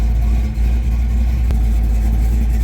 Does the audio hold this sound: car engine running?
yes